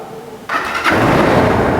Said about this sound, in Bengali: এবার চেষ্টা করব বাইকটা স্টার্ট করে আপনাদেরকে সাউন্ডটা শোনানোর